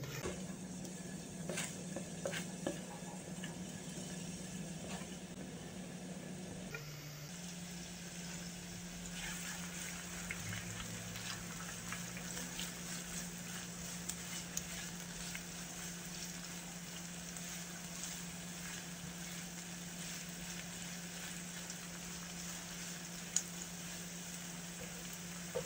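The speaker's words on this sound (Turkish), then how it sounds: "Hafiften yağ ısındıktan sonra yeşil biberi, kırmızı biberi ve soğanı ilave ediyorum." Green pepper, red pepper and onion fry in hot oil in a pan, giving a faint, steady sizzle with soft crackles and a low hum, quiet throughout.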